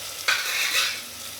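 Onions frying with a sprinkle of rock salt in a pan, heard as a steady close sizzle with a sharp burst as the salt lands, then a continuous hiss that slowly eases, with no voices.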